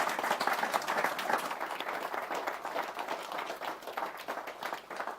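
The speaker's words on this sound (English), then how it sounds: "Join me in giving them a fantastic round of applause." A live audience at an evening event gives a sustained round of applause, many hands clapping in a dense, steady patter that tapers slightly toward the end.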